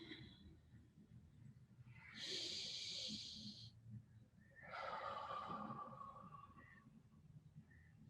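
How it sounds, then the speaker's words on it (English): Two slow, deep breaths during an evening guided meditation: a long inhale followed by a fuller exhale, close and soft, with no talking. "And take 3 nice deep breaths."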